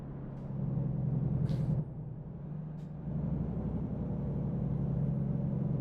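A truck in American Truck Simulator, a low steady diesel engine rumble close by with a sharp hiss of air brakes at about one and a half seconds and a shorter hiss later, no talking.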